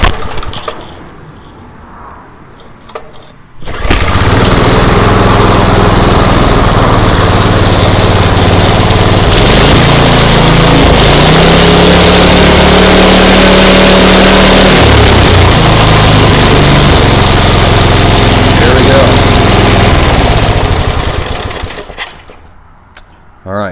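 A small go-kart engine runs loud with no muffler, a harsh buzzing drone held for most of the stretch with some shifts in pitch, close and steady before cutting off.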